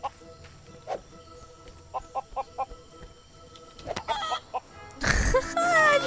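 Chickens in the Lego Worlds video game clucking in a short string of evenly spaced calls, followed by a louder burst of rough game noise and a voice near the end.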